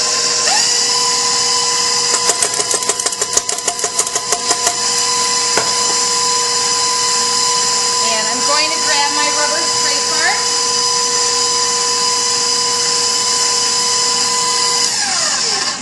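KitchenAid stand mixer running on low through creamed shortening, sugar and eggs, a steady high whirring motor drone with scraping clicks and rattles, a voice talking over it.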